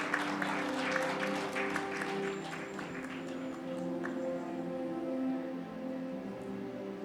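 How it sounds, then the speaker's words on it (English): An audience at an awards ceremony in Phuket, Thailand, claps in sustained, dense applause that carries on evenly for several seconds over a faint tonal background. "a big round of applause for Mr."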